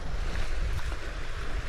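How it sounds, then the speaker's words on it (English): Steady, broadband wash of lake water rolling against a shore at Lake Tawakoni, with wind rumbling in the background; continuous, no voices. "The water coming in to shore, that is the best sound in the whole world."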